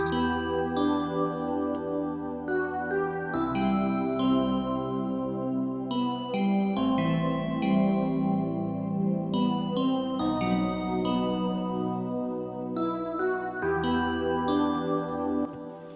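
Nexus synth preset played in FL Studio with the arpeggiator switched off, layered sustained chords with a low bass underneath, changing every couple of seconds, loud and continuous with no talking.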